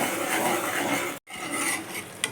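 Tomato puree sautéing in a pan, a continuous close sizzle with spoon scraping and stirring, cut by one brief silent gap, no voices.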